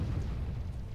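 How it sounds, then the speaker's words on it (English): A bunker is destroyed in the strategy video game Warzone 2100, giving a dense, low rumbling blast that stays loud and steady for just under a second, with no voice. "There goes another bunker."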